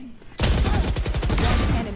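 Rapid gunfire bursts out in a Valorant match after a brief quiet start, a loud, close fusillade of quick repeated shots filling the rest of the moment.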